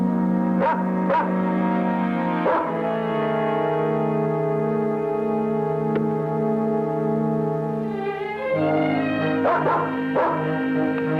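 A dog barks a few times and gives long, drawn-out whimpering whines, sustained and fairly loud with short yips at the start and end, heard without talk.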